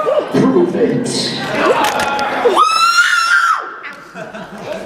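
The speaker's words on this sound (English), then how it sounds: "I learned I can scream like a fangirl." A woman lets out a high, sustained squealing scream amid excited voices and laughter.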